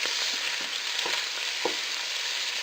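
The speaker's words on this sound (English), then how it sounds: "with a spoon you just want to break up your mince" Minced beef sizzles steadily in a hot pan while a spoon breaks it up and stirs it, giving a continuous loud fry with a few soft scraping taps, no voices.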